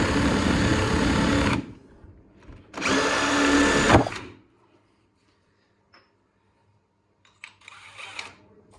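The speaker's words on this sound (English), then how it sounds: "when drilling these out, first go through with a pilot hole" A power drill whines loudly in two bursts, spinning up and cutting, followed by quiet clicks and light handling noises.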